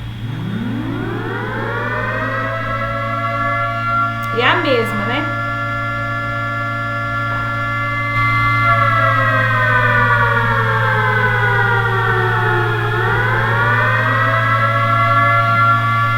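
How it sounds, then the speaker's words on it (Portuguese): A civil defense style nuclear alarm siren wails continuously, loud and steady, its tone rising then dipping and climbing again, while a voice briefly speaks over it partway through. "vamos ver aqui, alarme nuclear."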